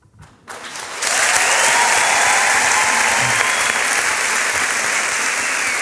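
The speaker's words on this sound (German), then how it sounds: "Applaus für Sven Hensel." Audience applause for performer Sven Hensel at the first start of the first round of a poetry slam, a brief noise then loud, dense, sustained clapping that swells up after a second and holds steady to the end.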